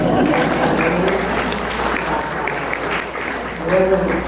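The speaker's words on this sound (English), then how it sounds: "So you all deserve another round of applause." An audience at a United Methodist Church interfaith gathering breaks into steady, loud applause that fills the whole moment, with a voice faintly audible under the clapping near the end.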